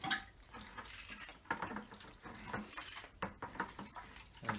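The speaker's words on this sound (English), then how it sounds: "We're going to start popping some of this liquid out." Liquid being pumped out of a jammed SaniBest Pro macerating toilet, faint wet sloshing and gurgling water with irregular splashy surges and soft knocks, quiet and close with no talking.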